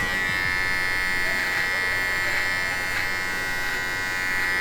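A Philips MG7922 13-in-1 electric trimmer with its nose trimmer head runs close up, giving a steady high-pitched motor buzz that pulses slightly in level and continues without a break.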